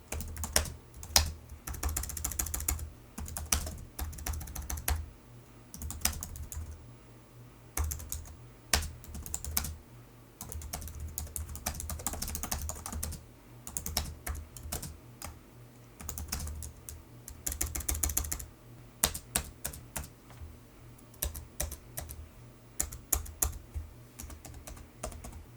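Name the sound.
typing on Dell Latitude E6510 laptop keyboard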